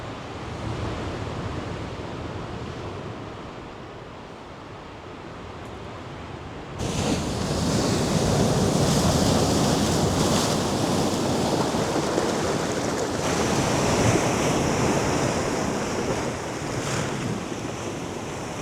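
Waves break and wash in a small coastal cove, a broad continuous surf roar mixed with wind buffeting that grows louder partway through, with no voices.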